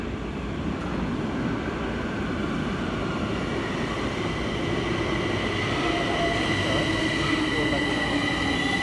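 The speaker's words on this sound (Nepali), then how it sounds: "आयो ट्रेन" A metro train rumbles into a station in Bucharest, a loud, continuous roar of wheels and carriages with a faint metallic squeal and a rising hum near the end.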